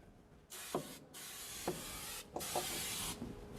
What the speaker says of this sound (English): spray the back of the enclosure